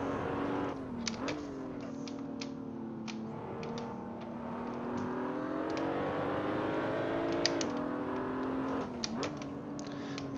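A BMW Z4 race car drives the Nürburgring in Assetto Corsa, its engine droning steadily from inside the car, pitch rising and dipping through gear changes and throttle lifts, with faint clicks over the steady tone.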